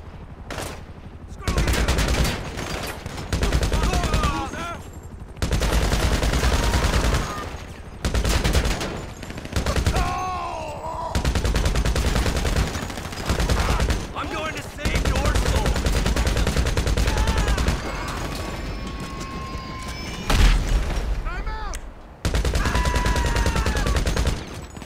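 Loud gunfire from GTA V comes in long automatic bursts separated by brief pauses, close and harsh, with shouting voices now and then between volleys.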